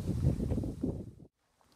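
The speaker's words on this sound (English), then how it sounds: "And then it's super windy." Strong outdoor wind at a plein air painting spot on the Kennebec River buffets the microphone with a loud, low rumbling roar for about a second, then cuts off to near silence.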